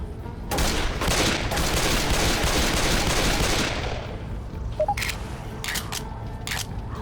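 Rapid pistol fire from a Glock and a second handgun in the video game Left 4 Dead 2, a dense run of loud cracking shots for several seconds, then a few separate sharp shots with gaps between them.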